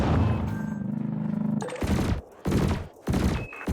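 Ship weapons firing in the Elite Dangerous space game: a droning laser beam followed by several heavy cannon blasts in quick succession, loud and close.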